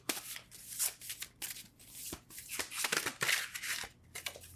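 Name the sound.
shuffling Ethereal Visions tarot cards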